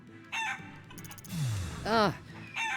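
Chickens cluck and a rooster crows in the Shenmue III video game, with several short squawking bursts and a rising, warbling crow that stands out clearly at close range.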